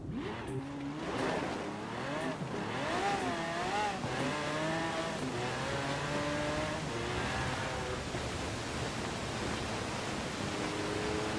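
BMW X6 engine accelerating in Forza Horizon 4 on a winter motorway, revving up through rising gear sweeps one after another, loud and steady with a rushing whine, no talk.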